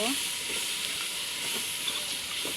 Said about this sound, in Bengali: এবার আমরা কচুর ফুলগুলো ঢেলে দেবো কচুর ফুলগুলো দিয়ে নাড়াচাড়া করব